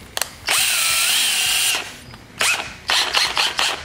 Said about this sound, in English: I'll even take one of these Q-tips and put it in a drill.